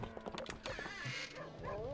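Dogs in the video game Sven Co-op, short barks and yips in quick bursts, close and fairly loud amid game noise.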